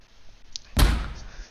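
A single enemy gunshot in the Police Shootout video game, a sudden close heavy crack with a low thump that decays over about half a second, after near silence.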